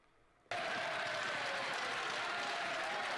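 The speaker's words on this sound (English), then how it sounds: "The speaker had to interrupt because they were clapping too much." A parliamentary audience breaks into sudden, loud, sustained clapping after a near-silent moment, a dense wall of hands that keeps going without letting up.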